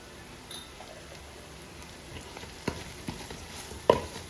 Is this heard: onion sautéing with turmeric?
yes